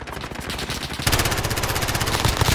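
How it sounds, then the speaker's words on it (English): Rapid automatic gunfire in Call of Duty Warzone, a dense burst of shots that grows louder and more intense halfway through, firing continuously and close up. "I'm getting shot from that team on the roof."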